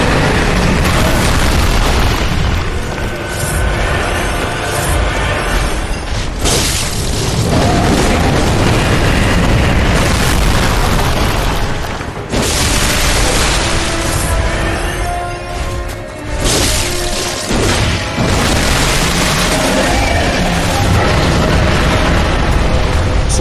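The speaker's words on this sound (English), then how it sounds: "he slimes the ground and his arms explode" Explosive bursts from a boss tearing off its arms in Bloodborne, loud, dense booms and crashing impacts recurring throughout amid continuous heavy game noise.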